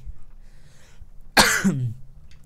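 A single sharp, harsh cough bursts out close by, trailing into a short voiced groan.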